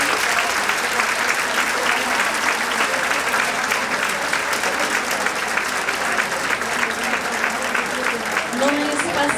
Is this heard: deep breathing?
no